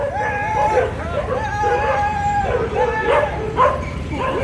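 Dog barking and yipping in a busy outdoor setting while chasing a man, a run of sharp, fairly close barks and whines over a steady background of crowd babble.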